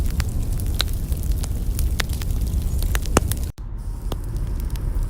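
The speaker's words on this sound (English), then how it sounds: "we're just going to sit here and listen to the crackle a little bit" A campfire crackles steadily, with dense pops and snaps over a low roaring rumble and a brief dropout partway through, heard close with no talking.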